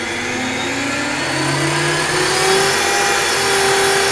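An Align 550X RC helicopter's electric motor spins up under soft start, a loud, close whine whose pitch climbs steadily and smoothly with no talk over it.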